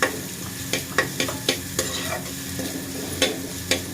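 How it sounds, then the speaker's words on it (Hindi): Onions frying in a pan for a restaurant-style paneer curry made without tomatoes, a steady soft sizzle broken by several sharp clinks and scrapes of a spoon stirring against the pan. "देखिए, प्याज मेरा भुज रहा है"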